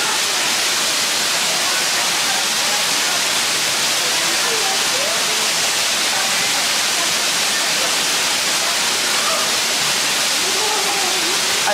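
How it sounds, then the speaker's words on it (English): Loud waterfall roars steadily as a dense, unbroken rush of falling water on a hiking trail, close and constant through the whole stretch. "I hope you can hear me because the waterfall is pretty loud."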